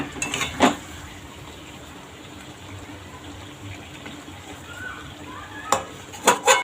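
Chicken meat stir-fried in a pan as its fat melts, with loud metal spatula clanks and scrapes at the start and again near the end, and a soft low sizzle in between.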